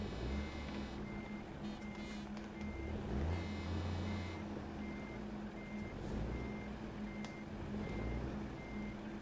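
A truck reversing in American Truck Simulator gives off a steady, evenly spaced electronic warning beep over a low, faint idling engine hum, with a brief air-brake hiss partway through and no talking.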